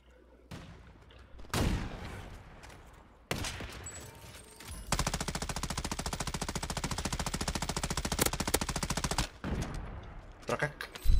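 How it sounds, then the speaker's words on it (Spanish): Automatic weapon fire in the video game Warzone: a few short bursts, then a long, loud, sustained rattle of rapid shots lasting several seconds before cutting off. "Prak, suena el arma."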